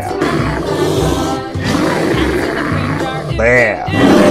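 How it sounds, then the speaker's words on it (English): A bear roars and growls in a long, rough, sustained rumble, rising into a louder bellow near the end. "Bear."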